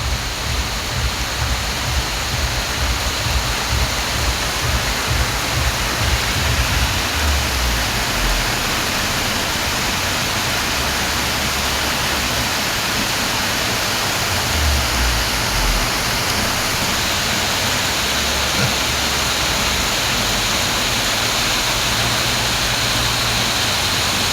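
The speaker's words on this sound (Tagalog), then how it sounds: "Pero grabe kusog ka sa tubig guys." Floodwater in Negros rushes and roars steadily for the whole stretch, a dense unbroken wash of noise like a swollen torrent, with no voices.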